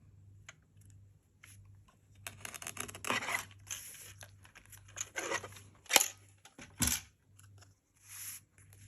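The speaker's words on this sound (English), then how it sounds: "So I'm just going to cut this one down to" Paper card being cut down to size for handmade card making, with scattered snips and rustling handling sounds, quiet and close, some louder cuts near the middle and end over a faint steady hum.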